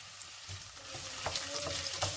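Sausage and onion fry in oil in a pan with a soft, constant sizzle. A few light scrapes from stirring come through, and no one speaks.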